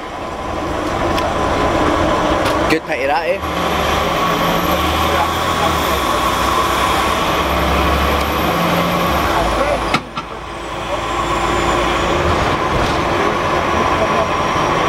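Heard from the back seat beside the engine of a bus, a loud continuous low rumble and drone fills the ride, with a couple of abrupt bumps and a brief spoken remark over it.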